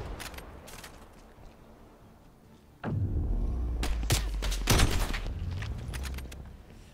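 Tech 9 submachine gun fire in a multiplayer shooter match, heard as scattered sharp shots and thuds, quieter early on and then louder, heavier bursts over a dense game background.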